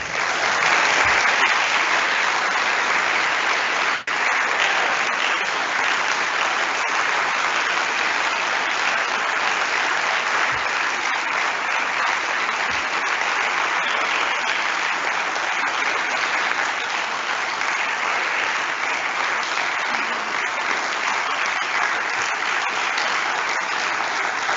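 Sustained audience applause following a distinguished faculty lecture, a dense even clapping from a large crowd lasting the whole stretch without pause.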